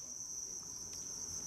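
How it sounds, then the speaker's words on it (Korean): Crickets chirp steadily and continuously in a vertical multi-tier smart insect farm, their high, shrill trilling filling racks of egg-carton-like habitats stacked floor to ceiling. "칸칸이 쌓인 사육대 안에는 귀뚜라미가 가득 들어 있습니다."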